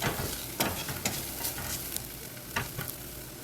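Spice powders and chili powder being sautéed in a pan, heard as a soft, steady sizzle broken by spatula scrapes and stirring knocks at irregular intervals, close and fairly quiet.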